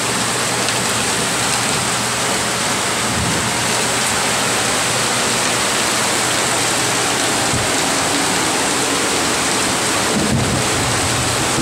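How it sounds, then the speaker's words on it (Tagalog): Heavy rain pours down steadily and loudly in a thunderstorm, a dense unbroken hiss with deep low rumbling underneath throughout. "Ayan, ang lakas ng ulan,"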